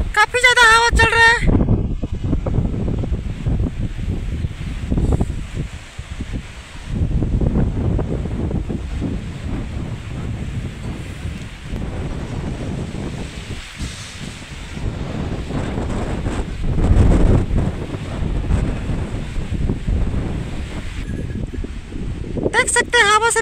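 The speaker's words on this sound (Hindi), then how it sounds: "काफी ज्यादा हवा चल रहा है" Strong wind blows steadily through rainy weather, a loud continuous rushing roar buffeting the microphone for the whole stretch, with trees shaking in the gusts.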